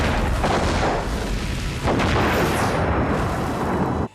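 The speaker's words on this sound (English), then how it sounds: "one more explosion." A big movie explosion in the 1994 action film Guardian Angel, set during a helicopter and boat chase: a loud sustained roaring blast with rumbling debris that fills the whole clip and cuts off abruptly at the end.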